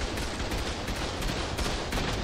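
Dense gunfire in ARK: Survival Ascended on the Scorched Earth map, with rapid overlapping shots and bursts crackling continuously like a fusillade, fairly loud and sustained throughout.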